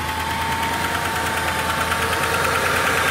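A minivan that sat long in the cold idles steadily after a battery charge, its engine drone overlaid with a fast, even ticking knock from the lifters, heard up close.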